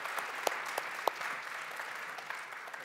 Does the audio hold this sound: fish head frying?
no